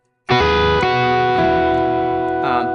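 Electric guitar plays double stops over power-chord backing, sustained two-note intervals ringing with effects and slight distortion, a few note changes across the passage, alone with no talk.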